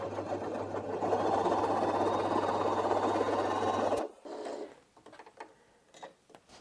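A Janome J3-18 sewing machine stitches through four layers of fabric, a close, steady rapid whir lasting about four seconds, then stopping and leaving quiet handling noises.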